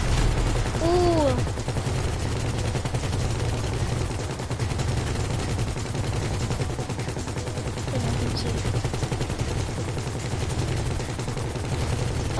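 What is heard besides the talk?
gunfire in the video game GTA 5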